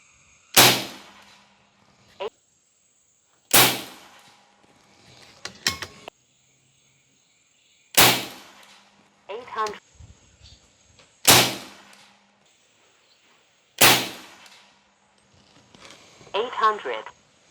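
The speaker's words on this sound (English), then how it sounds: "shooting these Altaros 60 grain slugs at 100 yards" An AEA Challenger PRO air rifle fires 60 grain Altaros slugs at a 100-yard target: five sharp, close cracks spaced a few seconds apart, each with a faint metallic ring, while a voice talks quietly between shots.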